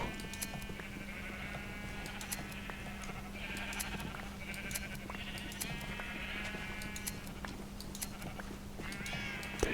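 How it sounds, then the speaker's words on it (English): Blocky game sheep bleat repeatedly while being sheared for wool in Minecraft, overlapping cries from several animals over a steady low hum, fairly close and continuous. "we are cutting so many sheeps, trimming their furs"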